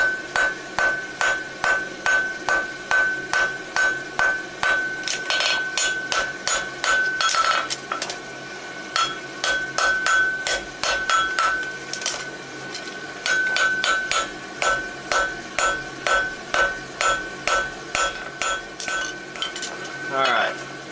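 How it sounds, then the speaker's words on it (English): Rapid metallic round-hammer strikes shaping a horseshoe ring out in steady bursts, close and loud, with brief pauses between runs of blows on metal. "Use my round hammer here."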